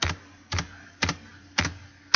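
Computer keyboard keys hammered hard while playing Flappy Bird, five loud clattering bursts at a steady half-second rhythm, close up and without talk.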